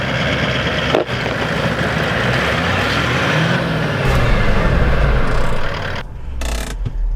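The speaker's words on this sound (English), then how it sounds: "As soon as I'm off those max tracks, just woo, wheel spin" A Toyota Land Cruiser 76 Series 4WD off-road in New Zealand, a loud continuous roar of engine and spinning wheels churning dirt close by, with rumbling and clunks of the vehicle working over rough ground.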